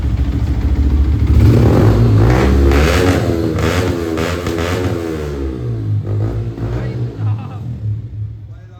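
A Yamaha R15 V4 motorcycle engine idles steadily after a self-start, following throttle body cleaning and a fuel pump change; a close, continuous mid-pitched hum runs throughout while someone talks over it.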